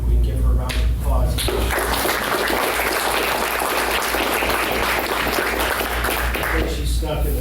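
Audience applause fills a university board of trustees meeting at Austin Peay, a dense, steady clapping that swells in after a brief pause and carries on for several seconds at even loudness.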